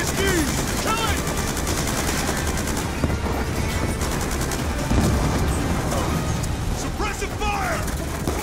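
Call of Duty: Black Ops II battle with dense, continuous rapid gunfire and machine-gun bursts, loud and close, while soldiers shout orders throughout.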